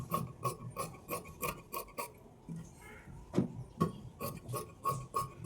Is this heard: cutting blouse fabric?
yes